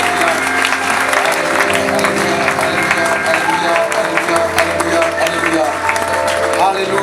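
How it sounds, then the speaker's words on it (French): A church congregation at a French-language worship service applauds and cheers in praise, dense sustained clapping and crowd voices filling the room throughout. "Acclamons encore pour la gloire de notre Dieu."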